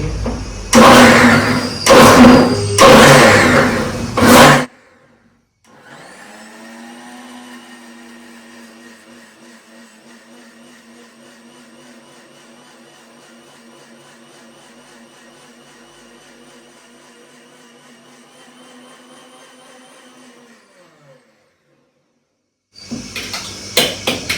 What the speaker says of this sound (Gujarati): તો ચાલો હવે મિક્સરમાં આપણે પીસી લઈશું.